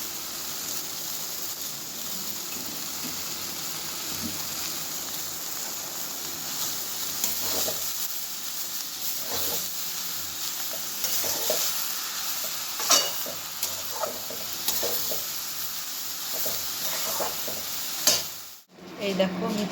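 Pea greens (matar shak) frying in a pan and being stirred, a steady close sizzle with scraping stirs throughout, a brief drop in sound near the end.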